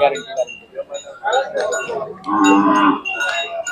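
A Khillar cow lets out a drawn-out moo amid the bustle of the Sangola cattle market, with people talking loudly around it before and during the call.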